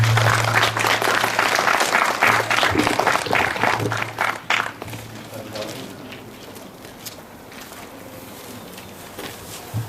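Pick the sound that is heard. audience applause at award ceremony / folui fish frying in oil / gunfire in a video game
audience applause at award ceremony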